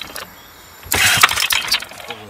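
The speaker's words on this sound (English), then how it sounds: "it backfires and rotates the wrong way" A Honda BF5 outboard engine converted to run on LPG cranks and catches in a short, loud sputtering burst with uneven pops, then quickly fades back down.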